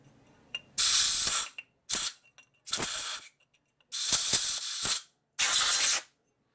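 Compressed air blasts blowing off cast aluminum and brass parts of a Linkert M35 carburetor for a 1940s Harley FL 74ci knucklehead engine, five or six loud hissing bursts of varying length with short gaps, no talk.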